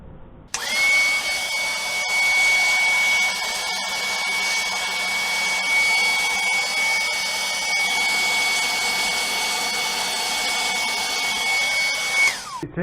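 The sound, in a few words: vacuum cleaning refrigerator condenser coils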